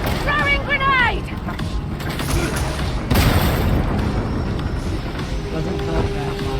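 Grenade explosion in Warhammer 40K: Darktide, a loud boom with crackling debris around the middle of a busy battle soundscape, with game voices and mechanical creaks around it.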